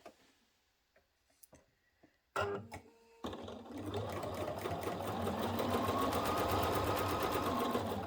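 A sewing machine stitches fabric seams, starting with a few sharp clicks and taps, then settling into a fast, continuous rhythmic whir of needle strokes that stays loud and steady to the end.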